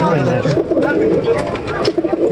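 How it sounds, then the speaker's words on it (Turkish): Many pigeons coo continuously in a dense, low murmuring chorus close by at a bird market in Edirnekapı, Istanbul, with faint voices mixed in the background. "Bak burada güzel kuşlar var"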